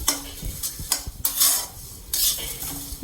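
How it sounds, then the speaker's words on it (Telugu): Cumin seeds roast in a pan for a mint chilli powder, a metal spoon scraping and stirring them in quick strokes with a light sizzle, close and loud. "ఇదిగోండి ఏగుతున్నాయండి జీలకర్ర జీలకర్ర కూడా ఇక కొంచెం ఏగితే సరిపోతాయి"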